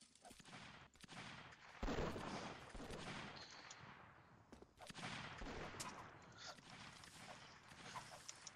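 Video-game gunfire in the Roblox game Arsenal: sharp shots and rapid bursts ring out repeatedly over a rumbling background, some louder and closer than others.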